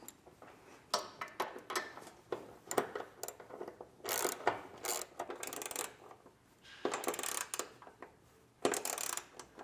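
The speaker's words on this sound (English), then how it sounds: "Come back through with a 14mm head socket and tighten down all the hardware that we put up into the side of the body." A 14mm socket tightening steel nerf bar mounting bolts into the side of a vehicle's body: quick bursts of ratcheting clicks, repeated several times with short pauses, fairly close and crisp.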